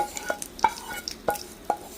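A spoon stirs coriander chutney and tempering together in a bowl, giving a few soft scraping strokes and light clinks at an uneven pace, close by.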